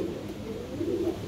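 Pigeons coo in a low, soft, throaty murmur, a brief close call against faint background hiss.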